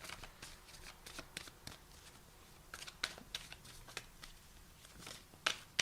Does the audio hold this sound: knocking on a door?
no